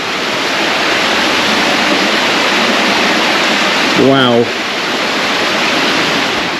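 Loud, steady roar of a waterfall echoing inside an old coal mine tunnel, continuous broadband rush throughout, with one person briefly exclaiming partway through.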